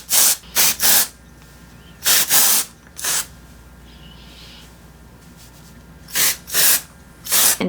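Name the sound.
dry shampoo being sprayed on hair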